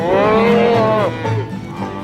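A cow on a large American cattle ranch gives a loud, close moo lasting about a second, followed by quieter lowing and a softer call from the herd.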